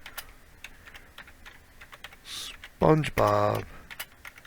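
A computer keyboard tapped in a series of soft, close keystrokes while entering code, followed by a short spoken word near the end.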